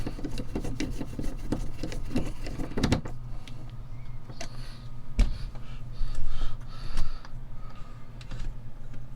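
A vintage RV window winder fitted with a brand new crank mechanism turns with a steady rubbing, grinding rasp, loud at first, then softer creaks and knocks, heard close and alone.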